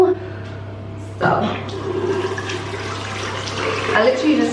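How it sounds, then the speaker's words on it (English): Warm water is splashed onto a face at a sink during a morning skin care routine: running water with wet splashes and gurgles, close and steady, louder after the first second. "I literally just splash a little bit of warm water on my face to make sure that it's all off."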